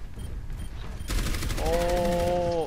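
Orisa's weapon firing in the video game Overwatch, a rapid continuous burst of shots following a quieter stretch, with a tonal game effect ringing over the gunfire near the end.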